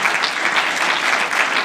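An audience bursts into dense, steady clapping that fills the whole moment at a fairly loud level, with no voices heard over it.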